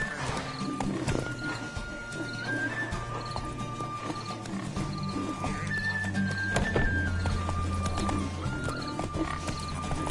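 Roach, a horse in The Witcher video game, gallops in a steady rhythmic clip-clop of hooves with occasional snorts and whinnies, close and continuous, over faint background music.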